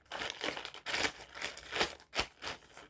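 A plastic bag crinkles and crumples in close bursts of handling, several rustling surges with brief pauses between them, and no voice over it.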